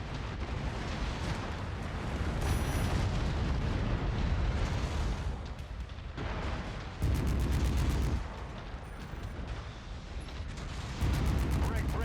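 An Atlas RS mech in a video game takes weapon hits: dense, heavy booming impacts and mechanical clanks pile up continuously, swelling in loud bursts throughout.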